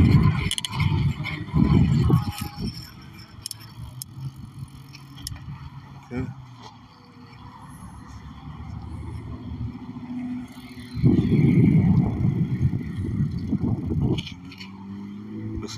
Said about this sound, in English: There's a lot of cars.